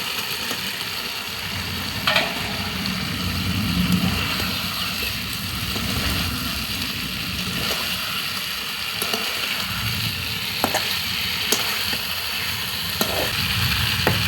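Sliced pointed gourds tossed into long-cut potatoes already browning in a hot pan give a steady, close sizzle and frying hiss, with occasional stirring clinks and a few sharper spatters, and no talking.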